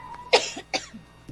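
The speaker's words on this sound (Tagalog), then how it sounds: "Oo nga, ubo ka ng ubo." A person gives two quick, sharp coughs close to the listener, with a faint third throaty sound after them and a low hum underneath.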